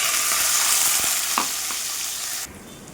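Steady oily sizzle of onions and curry leaves frying in oil in a pan, bright and continuous, with a couple of soft stirring clinks before the hiss drops off abruptly.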